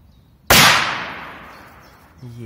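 A Korsar 3 firecracker goes off in a single loud, sharp blast that rings out and decays slowly over about two seconds, followed by a brief faint hum.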